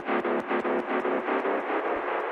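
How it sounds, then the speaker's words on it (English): A dubstep build-up made of pulsing synth hits, with a pitch shifter and a frequency shifter working against each other so the tone seems to rise and fall at once in a dissonant, rhythmic loop. "It's like these pitchers or this frequency shifter and the pitcher are fighting against each other."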